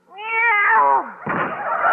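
A cat meows in an old-time radio show, one long drawn-out meow with a falling pitch, loud and close, followed by a burst of noisy rustle or hiss.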